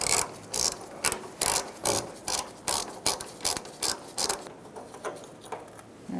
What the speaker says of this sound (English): And using a 12mm socket, we're going to loosen up this bolt.